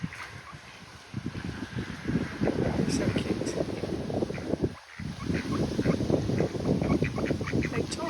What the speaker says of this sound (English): he's doing the low duck sounds